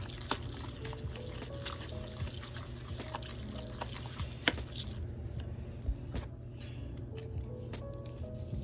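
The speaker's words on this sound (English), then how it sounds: "You pour most of that in the water" Soft pouring and trickling of instant noodle seasoning into water, steady for several seconds over a low background hum, with no talking.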